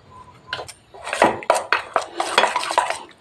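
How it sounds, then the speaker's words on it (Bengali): A spoon clatters against a bowl while thick gram-flour batter for cauliflower fritters is mixed, giving loud, irregular knocks and scrapes close by. "একটু জল দিয়ে একটা ঘন ব্যাটার করে নেব"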